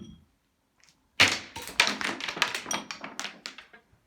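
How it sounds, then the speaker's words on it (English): Little Sinterklaas cookies thrown onto a floor, landing as a rapid cascade of small hard taps and clicks that scatter and bounce, close and crisp, after a moment of near silence. "cookies come through the roof and you scamper after them."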